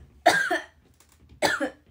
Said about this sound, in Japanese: アイドルじゃないな咳が